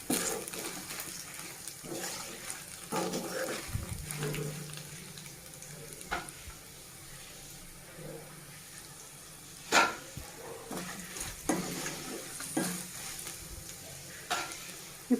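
Green chillies and onion frying in oil for a tempering while making white brinjal fry, a soft sizzle with occasional stirring scrapes and clinks, quiet and close, no talking.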